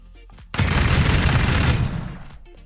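A sustained, loud burst of rapid gunfire from a new gun in Landfall erupts abruptly and roars for over a second before cutting off, alone with no talk.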